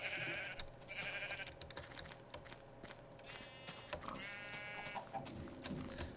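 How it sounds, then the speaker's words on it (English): Several sheep in the video game Minecraft bleat in short, repeated calls spread across the clip, each one clear and fairly close, over a steady game background with faint footstep-like taps. "So I'm going to wind up breeding these sheep"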